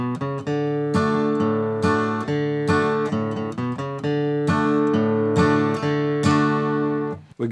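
A country song opens with a short guitar riff played as picked single notes in a steady repeating phrase. The tone is clear and bright, heard alone without talk.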